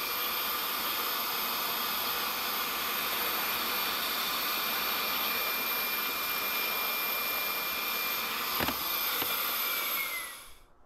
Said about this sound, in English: first was a thorough vacuum of the leather with a soft brush tool including in between the seams